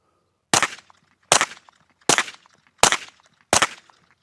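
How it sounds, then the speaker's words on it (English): A suppressed Gen 3 KRISS Vector fires store-bought subsonic rounds at a rubber target: five evenly spaced, sharp, fairly loud single shots about three-quarters of a second apart, each with a short tail, in otherwise quiet surroundings. "Let's see how quiet this gun can get."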